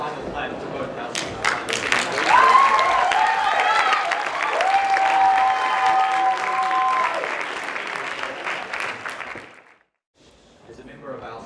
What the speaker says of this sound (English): I would invite you all to give one final clap to both houses.